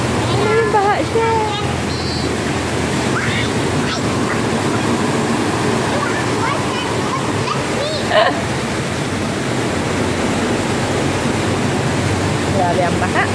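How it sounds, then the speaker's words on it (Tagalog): Steady splashing and sloshing of people wading through deep floodwater in a Dubai street, continuous and close, with voices talking over it throughout. "We're walking in the water."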